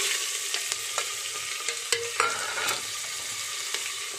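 Steady sizzling of asafoetida and onion tempering in hot oil for pigeon pea dal, with occasional pops and stirring clicks from a spoon, close up and with no voices.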